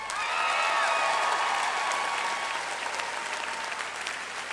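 A school-district convocation audience applauds and cheers for the ATS teachers and staff, a dense, steady wash of clapping with some shouts that swells early and then slowly tapers.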